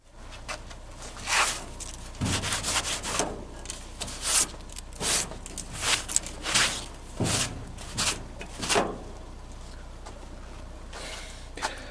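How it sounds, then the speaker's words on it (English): Welds on a car body patch panel being ground down in repeated short bursts of gritty, rasping abrasion separated by brief pauses, close and moderately loud, with no talking. "You got to be careful when you're grinding on those welds"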